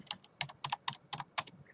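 Quick, close taps on a computer keyboard, about a dozen sharp key clicks in short uneven bursts, with no speech.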